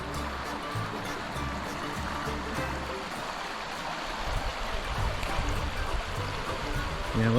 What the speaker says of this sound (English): definitely getting a lot more rapids up in this area